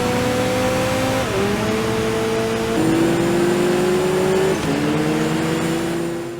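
A car engine drones steadily and loud with shifting pitch, rising and dropping through gear changes, like a racer at speed in a PS2 racing video game.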